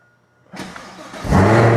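A Toyota Supra's engine cranks and catches, then settles into a loud, steady running rumble close by.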